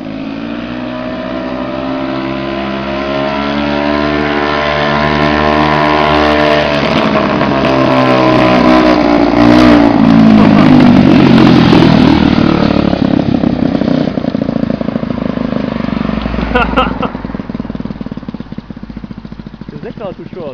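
A motorized wooden bike's engine revs hard and climbs through the gears close by, its tone rising and swelling steadily before easing off near the end, with voices talking over it.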